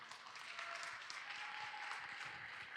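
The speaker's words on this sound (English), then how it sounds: "Let's give him a round of applause." Faint, even applause from a high school audience welcoming a guest attorney to the stage, a soft continuous patter of many hands heard from a distance.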